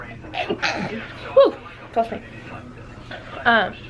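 A person sneezes in a casual vlog setting, a sharp, close burst standing out among brief breathy sounds and a few spoken words.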